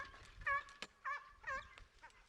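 A hunting dog in dense brush during a Spanish montería boar hunt gives a few short, sharp yelps and whines in quick succession at moderate distance.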